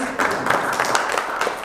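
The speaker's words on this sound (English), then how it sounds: "So if you want to give him a round of applause" Audience applause for Jonas after a photography talk about Iceland, a steady wash of clapping hands that fills the short moment without letup.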